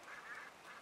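Ducks quacking in the Red Dead RP video game, a hunting scene: a short run of faint nasal quacks, two or three calls in quick succession, distant and quiet.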